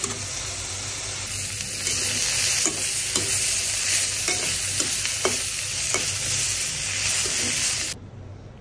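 Bitter gourd fries with chilli, onion and salt in a pan, giving a continuous loud sizzle with occasional stirring scrapes and clicks, then cutting off abruptly near the end.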